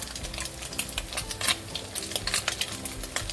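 Fried rice is stir-fried in a hot pan with mushroom sauce and sugar, giving a steady sizzle broken by rhythmic scraping and tossing clicks from the spatula against the pan.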